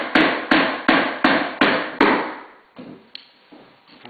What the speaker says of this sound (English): we'll be using this hardwood floor hammer and just hammering in our nails to the hardwood floor